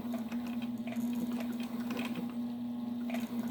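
Sewing machine running slowly through leather and vinyl with high torque, a steady low motor hum with faint irregular needle ticks throughout, close and continuous, no talking.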